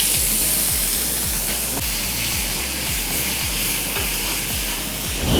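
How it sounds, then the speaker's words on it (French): Onion sizzles in a pan of butter and olive oil, a loud, constant hissing fry up close, with faint rhythmic low thumps underneath and no talking. "L'oignon là dans la poêle."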